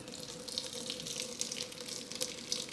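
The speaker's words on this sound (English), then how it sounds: "So we'll strain the excess water." Steady rush of water pouring and draining as water is strained from cooked rice into a sink, continuous and fairly close.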